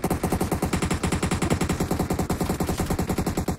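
Sustained automatic gunfire in PUBG Mobile, a rapid, unbroken stream of sharp, loud shots at a steady fast rhythm from start to finish, with no voices.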